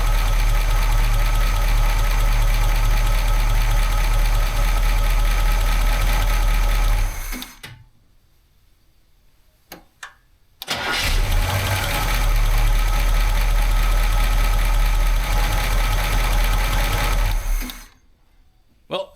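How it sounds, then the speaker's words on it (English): A 1968 Camaro SS 396 big-block V8 idles after sitting unused for 26 years, a loud, steady rumbling run that cuts out briefly partway, then picks back up and runs steady before dropping off again near the end. "First time idling in 26 years."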